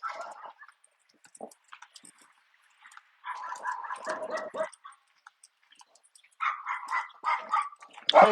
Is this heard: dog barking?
yes